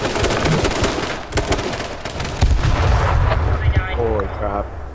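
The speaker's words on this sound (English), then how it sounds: "Oh, I'm being shot. Someone pistoled me." Pistol gunshots in a H1Z1 King of the Kill battle royale match, loud sharp cracks scattered over dense, noisy game action, with booming impacts and a burst of rapid shots near the end.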